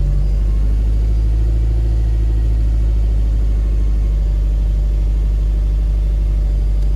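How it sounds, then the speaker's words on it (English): A Subaru Legacy Spec B idles while warming up, a steady, loud low rumble with an even engine hum that holds constant throughout, no revving and no voices. "Let's let it idle for a couple minutes."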